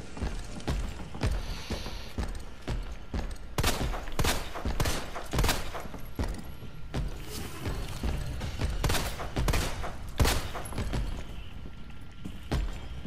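Flame rounds fired from a grenade launcher in Resident Evil 2, a rapid series of sharp, loud, close blasts in uneven rhythm with mechanical clacks of reloading between shots and no talking.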